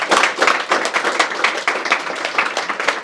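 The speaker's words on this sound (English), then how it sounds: "With like a round of applause." A round of applause from the audience at a private entrepreneur event in Los Angeles, dense steady clapping from many hands filling the room for a few seconds.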